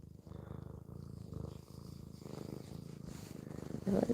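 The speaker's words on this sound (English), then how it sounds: "She's got the loudest purr." A cat's loud, continuous purr rumbles up close in a quiet room, a steady rhythmic throb with a slightly stronger rise at the very end.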